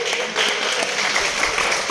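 An audience at a leadership talk claps in a brief, even burst of applause, fairly close and steady throughout.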